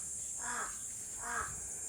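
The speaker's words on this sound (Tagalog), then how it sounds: "Yan yung mga upuan ko na yung mga uwak dito pala sila nagbe-breakfast sa amin." Crows cawing while they wait to be fed at a breakfast spot, two separate harsh caws at moderate distance over a steady background hiss, with no talking.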